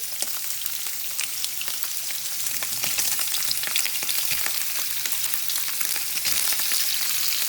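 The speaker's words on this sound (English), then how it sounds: "I'm gonna add this oil. I'm gonna add my sausage." Andouille sausage dropped into hot oil for gumbo crackles and sizzles steadily and loudly, with dense spattering pops throughout and no talking.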